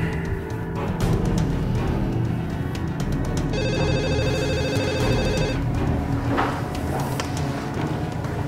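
A telephone rings while a call is being placed: a repeating electronic ring pattern sounds in the middle of the stretch over a steady low background hum, with faint rustling around it.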